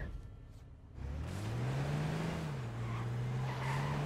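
Quad bike engine in a video game revving up and holding a steady drone, heard at a distance and fairly quiet, with no voices over it.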